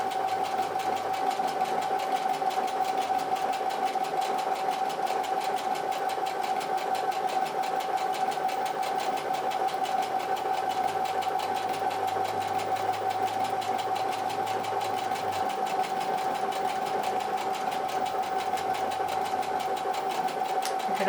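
A sewing machine fitted with a roller foot top-stitches through plastic, giving one long, even, close mechanical whir that never pauses.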